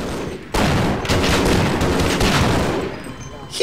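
Shotgun fire in the video game Half-Life, a loud blast that starts abruptly and is followed by a sustained roar of further shots and rumbling that fades near the end.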